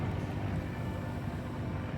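Sailboat motoring under engine power at about five knots, a steady low drone and broadband water and wind rush filling the whole stretch at an even level.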